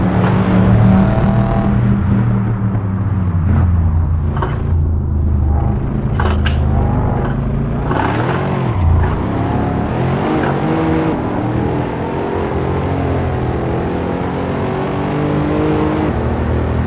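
Mercedes W213 E63S Estate in the Assetto Corsa racing game on the Bikernieki track, a loud continuous engine drone rising and falling with revs and gear changes, close and dominant.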